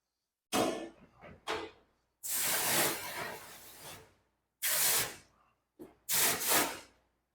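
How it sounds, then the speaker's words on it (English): Water spraying and rinsing over a black bear carcass during skinning, several separate bursts of hissing spray, close and fairly quiet, with silent gaps between them. "I'm going to go ahead and rinse off for a second."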